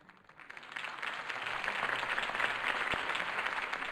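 Crowd applause in a Batman mobile video game swells from quiet into a dense, sustained wash of clapping that holds steady to the end.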